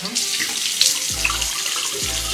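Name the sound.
water running while rinsing off cleansing oil from face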